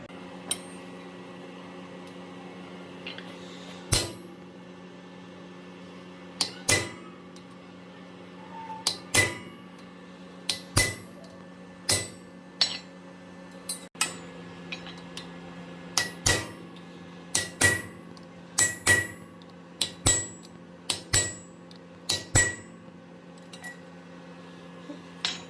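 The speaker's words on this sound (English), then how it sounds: "I'm gonna fuller about halfway down these two spots." Blacksmith fullering hot steel on an anvil, with sharp ringing hammer strikes landing in irregular clusters and short pauses over a quiet background hum.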